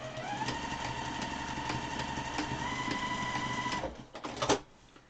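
Sewing machine stitching down a nose piece on a fabric face mask, a steady motor whir holding evenly for several seconds before stopping, followed by a few handling clicks.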